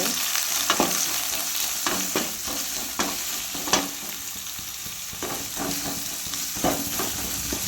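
Red onion and tomato frying in a pan, with a steady broadband sizzle and occasional scraping stirs breaking through, close and fairly loud with no voices.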